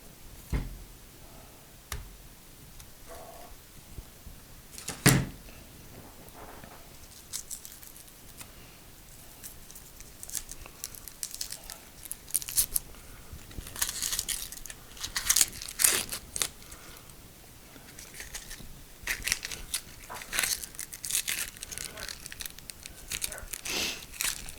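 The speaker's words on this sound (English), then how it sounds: "we're going to remove the outer layer of the paper" Papery outer skin being peeled off a Vidalia onion after trimming the root and top: close, irregular crinkling, tearing and crackling bursts with scattered ticks and faint background speech.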